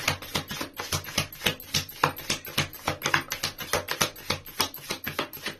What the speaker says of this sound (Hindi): एक लास्ट शफल करूंगी मैं